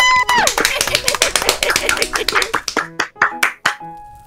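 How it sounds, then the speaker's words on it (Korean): Applause from a small crowd at a dog contest, a run of quick sharp claps that thins out into a few scattered final claps, with tonal voices briefly mixed in at the start. "다들 박수 주세요"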